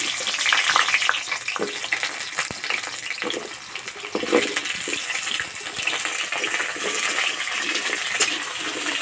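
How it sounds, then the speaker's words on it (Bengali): Potatoes frying in mustard oil in a wok, heard as a steady close sizzle and crackle with scattered sharp pops and faint scraping throughout. "প্রথমে আলু ভেজে নেব।"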